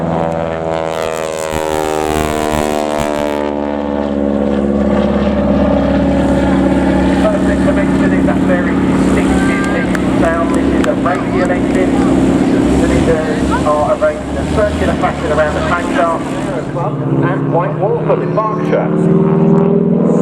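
A Harvard propeller trainer flies over the RAF Cosford airshow, its engine drone loud and steady throughout, with a shifting, rising and falling pitch as it passes; a commentator talks over the sound.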